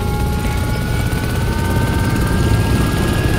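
A helicopter in the video game ArmA 2: Operation Arrowhead thrums with a loud, continuous rotor and engine drone, close and steady without talking.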